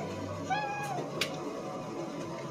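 At a shelter housing many rescued cats, a young kitten gives one clear, high, rising meow, close but soft, over a quiet room hum with a faint click just after.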